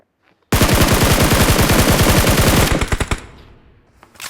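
A loud, rapid burst of automatic gunfire in PUBG rattles out for about two seconds, then trails off into a few scattered shots and echoing decay.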